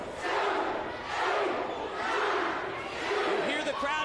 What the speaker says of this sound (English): You hear the crowd here at the TNA Asylum counting with each right hand.